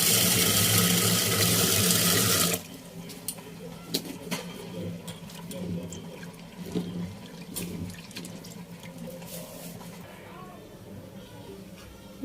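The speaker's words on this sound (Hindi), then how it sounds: "डालमा का तो दाल पहले अच्छे से धोएंगे।" Tap water runs loudly into a sink while dal lentils are washed for dalma, a strong steady gush that stops abruptly, followed by softer splashing, drips and handling of the lentils with a voice speaking.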